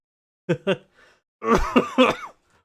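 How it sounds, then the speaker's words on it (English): A person with a lingering cough lets out two short sharp coughs, then a longer harsh fit of coughing, close to the microphone, with brief pauses between bursts. "I am still suffering with a bit of a cough. And I will cough periodically throughout the stream"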